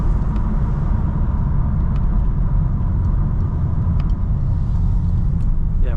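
A 2025 BMW M4 CS exhaust gives a loud, steady low rumble close by, droning evenly without any revving.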